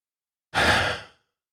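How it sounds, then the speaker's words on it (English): One deep breath, a single close, loud exhale like a sigh that lasts about half a second, taken during a tapping exercise and set in silence. "take a nice big deep breath"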